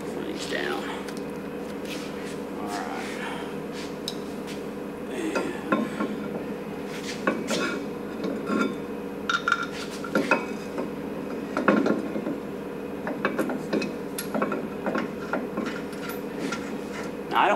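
Metal washers clink and rattle as they are handled and set down in a workshop during a brake caliper and suspension job, a series of sharp, bright taps and chinks scattered under a steady background hum and occasional talk.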